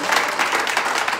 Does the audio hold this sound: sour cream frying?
no